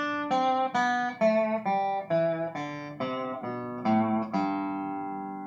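Dobro played with a steel bar, a descending exercise of about ten separate sliding notes in a steady, moderate rhythm, each ringing with bright harmonic overtones, the last note left to sustain and fade.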